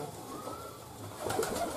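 A racing pigeon in a loft gives a short, soft coo near the end, close by after a quiet stretch of low background noise, with nobody talking.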